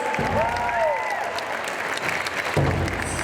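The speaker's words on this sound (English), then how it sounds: "Let's put another round of applause together. Hands together, make some noise." Audience applause at the Shakopee pow wow exhibition in the Mall of America, moderate clapping with whistles and scattered cheers in an echoing indoor space, a brief louder burst near the end.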